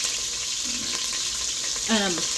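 Beef for carne guisada searing hard in a hot pan, giving a steady broadband sizzle throughout, with a brief louder scrape or stir near the end.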